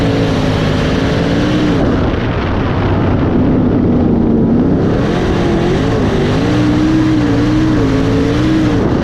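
Sprint cars race on a dirt oval at Bloomington, engines roaring loud and continuous with rising and falling pitch as the pack drives through the turns, no talk heard.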